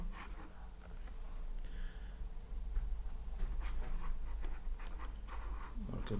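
Pen or marker drawing a number line on paper or a board: faint, scratchy strokes and light taps come in short bursts over low background hum, close and quiet.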